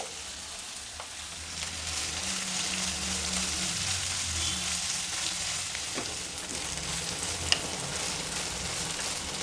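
Green chili paste sizzling in hot tempering oil, a steady close frying sizzle with faint stirring scrapes, continuous and even throughout with no talk.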